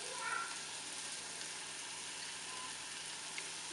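Curry leaves and crushed chili fry in a pan for a chicken thoran, giving a faint, steady sizzle with no talk.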